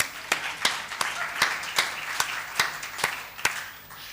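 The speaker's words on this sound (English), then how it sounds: "I think we should give them a round of applause for being brave and presenting failure" A small conference audience at a medical scientific meeting applauds the presenters, giving a few seconds of light, scattered handclaps at moderate distance with some sharper individual claps standing out.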